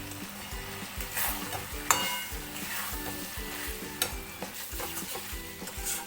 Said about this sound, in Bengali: চিকেনের সঙ্গে মশলাটা ভালো করে মিশিয়ে নেব।